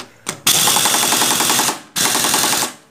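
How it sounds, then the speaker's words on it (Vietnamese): A pneumatic impact wrench with a 17 mm socket hammers a nut tight in two loud rapid bursts of rattling blows, the first about a second and a half long, then a short pause before the second, with no talk. "Khi anh em mình không vặn bằng tay được nữa thì anh em mình hãy dùng bằng súng bắn nhá."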